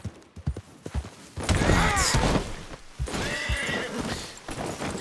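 A horse neighs loudly in Red Dead Redemption 2 with a long, wavering whinny, followed by a second whinny, with hoof clops and thuds around them.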